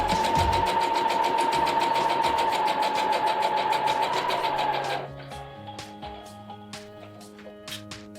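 A sewing machine stitches bias tape onto a fabric face mask in a loud, fast, buzzing run with a steady pitch, then cuts off into a few scattered mechanical clicks and clunks.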